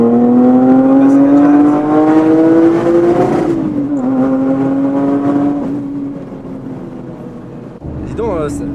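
Lotus Evora S sports car with a GTE rear wing and carbon boot lid accelerating hard, a loud rising engine note climbing through the gears in one long pull, then a gear change and a falling note as it eases off.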